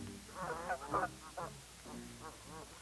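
Ducks at a small open stretch of water in a frozen winter pond, a close cluster of honking, nasal quacks in several quick bursts with short pauses, fairly loud against a quiet background.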